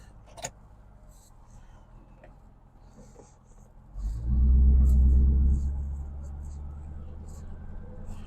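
A car engine cranks and catches, swelling into a deep, steady idle rumble that holds for a few seconds and then settles slightly. Faint ticks and handling noises come before it, close by with no talk.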